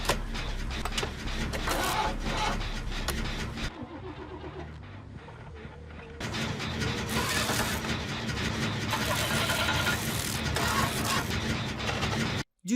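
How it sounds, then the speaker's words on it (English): A generator from the video game Dead by Daylight runs with a dense, loud mechanical rumble like a car engine cranking, dropping out briefly in the middle before resuming at full strength and cutting off at the end. "change the sound effect of the new generators to be more realistic. What ended up happening is people calling them car startup noises"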